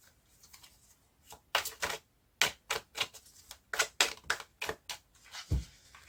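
A deck of tarot cards being cut and shuffled, a string of crisp riffling snaps and taps close by, irregular bursts over several seconds with no talk.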